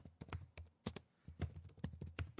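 Quick, uneven clicks of typing on a computer keyboard, close by, in short bursts with brief pauses between them.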